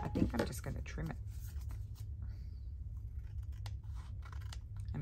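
Scissors trim folded paper during a craft session making ephemera. Several crisp, close snips cluster in the first second, followed by quieter handling under a low voice.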